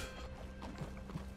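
Hooves from a horse in Red Dead Redemption 2 clip-clop quietly in a brief run of a few steady footfalls over a low ambient hum, with no voices.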